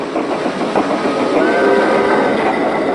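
Trains roll along railway tracks in a steady, loud rumble with faint clickety-clack and a thin whistle-like tone riding on top, continuous and close, with no voices.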